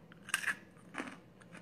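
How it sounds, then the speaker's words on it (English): Crisp crunches of a puffed crunchy cheddar cheese snack being bitten, a few sharp bursts close to the mic with quieter crackles after, at a busy food show. "this is just a piece of cheddar cheese that is crunchy and puffed"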